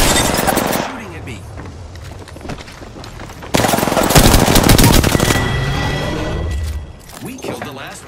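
Rapid automatic gunfire in the battle royale shooter Apex Legends rattles in dense bursts, loudest in the middle stretch, with a player's voice talking over the shooting.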